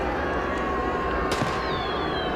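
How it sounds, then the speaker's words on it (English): Fireworks burst in the riot game RIOT: Civil Unrest, a sharp crackling pop rising over a steady dense crowd-and-street din, followed by a thin whistling tone trailing off. "Let's get fireworks for these guys."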